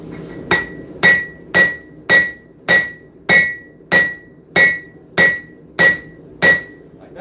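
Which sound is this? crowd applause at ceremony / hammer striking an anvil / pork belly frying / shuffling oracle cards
hammer striking an anvil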